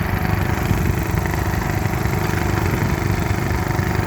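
A Drayton engine runs at a ploughing day, a steady, close, even idle with a low rumbling throb and no change in pace, its exhaust baffled and noted as quieter than most, with no voices over it.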